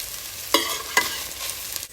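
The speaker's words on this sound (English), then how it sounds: "Brown off the beef till it's coloured on all sides and just take it out the pan." Beef browns in a hot frying pan on a cooker, a close, steady sizzle broken by two sharp stirring scrapes and clatters of the meat being turned, with no talk.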